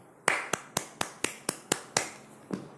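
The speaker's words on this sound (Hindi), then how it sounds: "गधे ने अपने खुर हवा में उठाए और तालियां बजाईं।" Clapping sound effect for a cartoon donkey applauding in an animated Hindi moral story: nine sharp, evenly spaced claps, crisp and close, with no talk.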